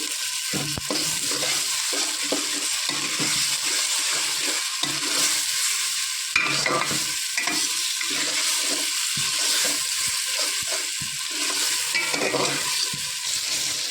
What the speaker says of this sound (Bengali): আদা রসুন আমার ভাজা হয়ে গেছে